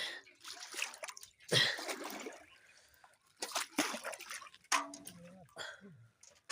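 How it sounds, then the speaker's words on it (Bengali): Water poured from a container onto garden plants in the early morning, splashing and trickling in short bursts across the clip, with a person speaking intermittently in between. "জল দেবো গাছে"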